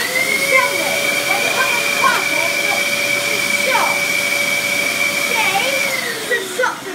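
A 2003 Dyson DC11 vacuum cleaner runs with its turbo tool on carpet, making a loud, steady whine with a high tonal hum, while voices talk over it.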